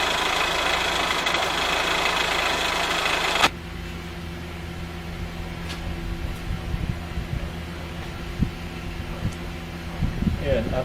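A Mitsubishi Lancer engine idles after an oil change; a loud broadband rush cuts out abruptly after three seconds, leaving a steady low engine hum with light knocks and clicks underneath.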